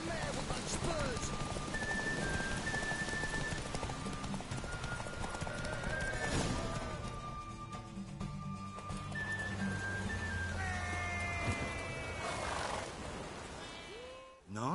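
Horse galloping in a race in The Witcher 3, steady rapid hoofbeats with neighs and whinnies over game music and ambience, fading at the end.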